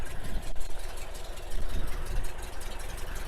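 The engine of a 1964 Porsche 356 SC idles smoothly, a steady low burble heard close and alone without any talking.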